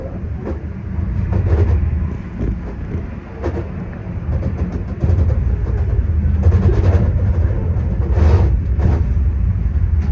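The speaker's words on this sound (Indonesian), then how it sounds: "bersilang dengan kereta api Lodaya tambahan teman-teman" From aboard a moving train, the passing Lodaya train rumbles by with a dense, loud roar and rhythmic clatter of wheels, steady throughout and swelling slightly midway.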